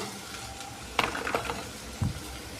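Ingredients for a potato curry served with poori fry in a pan, giving a soft, steady sizzle with a few sharper clicks and stirring knocks, and no voices.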